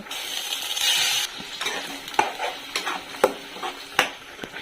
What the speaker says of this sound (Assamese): এইখিনি এতিয়া ভাজি থাকিব লাগিব।